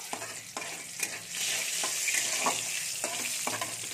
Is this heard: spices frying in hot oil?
yes